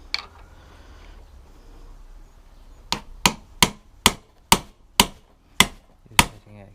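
Hammer blows strike a motorcycle headset bearing, eight sharp metallic hits in a quick, fairly even rhythm, each ringing briefly, after a few seconds of quiet shop background.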